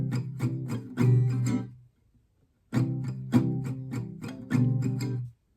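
Acoustic guitar playing the first block of a song with some palm-muted strums: two phrases of quick rhythmic strokes mixing choked hits and ringing chords, separated by a brief pause, close and without voices.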